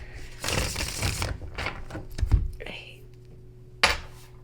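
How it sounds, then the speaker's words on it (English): Tarot cards being shuffled up close with soft riffling and rustling, plus a few sharp metallic clicks of a ring tapping against them. "it annoys me sometimes when I'm shuffling"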